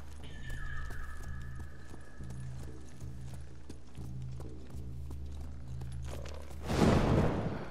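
Horse hooves clip-clop at a steady run in the samurai action game Ghost of Tsushima, with a long whinny early on, a low rumbling bed throughout and a loud burst near the end.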